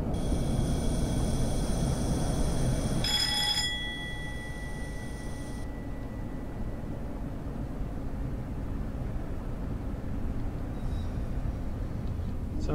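A Class 101 diesel unit runs in Train Sim 2021 on the Manchester to Huddersfield route, a continuous low rumble of engine and wheels, with a brief high chime early on before the drone carries on alone.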